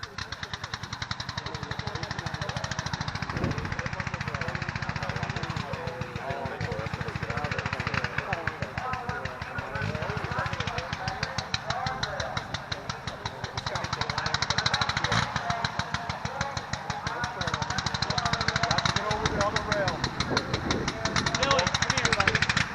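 Radio-control model plane engine, a Sopwith Camel scale model with a rotary engine, buzzing continuously and fairly loud at an outdoor aerodrome jamboree, with people talking over it throughout.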